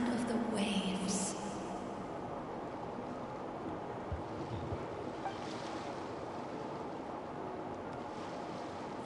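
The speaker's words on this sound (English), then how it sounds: "Go to where you can hear the sound of the waves." Ocean waves wash in a steady, soft surf roar with some wind noise, fairly distant and even throughout, with no voices over it.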